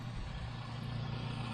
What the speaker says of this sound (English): here got the car turned on in gear